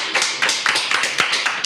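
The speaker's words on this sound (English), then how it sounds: "Everybody round of applause." A small group claps in a quick, uneven burst of several sharp hand slaps, close and fairly loud, with no talking over it.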